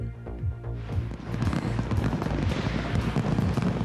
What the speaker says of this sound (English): And a rare sight of fireworks this new year in Sydney